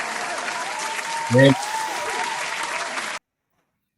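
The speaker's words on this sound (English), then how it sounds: "Let me put some claps on here real quick." An added applause sound effect on a podcast plays as a steady, loud clapping crowd for about three seconds, with a brief spoken word partway through, then stops abruptly.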